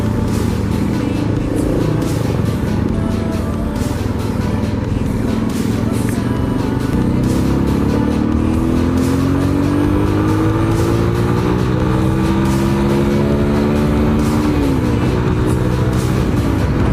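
An old motorbike rides through traffic, its engine droning loud and close throughout with rising and falling revs, other vehicles mixed in around it.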